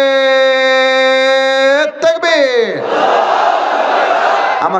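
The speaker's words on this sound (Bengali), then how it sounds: "জাস্ট একটা তাকবীর দেন আমার সাথে" A crowd at an Islamic sermon roars back in unison answering a takbir chant, a loud, dense wave of voices that follows a single sustained call.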